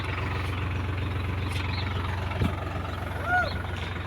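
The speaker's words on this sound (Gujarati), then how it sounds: "અમારું મહેન્દ્રા ઈવો સાત ફૂટનું રોટાવેટર" A Mahindra Yuvo tractor fitted with a seven-foot rotavator idles with a steady low engine rumble nearby, while a faint thump and a soft whistle-like tone rise briefly above it.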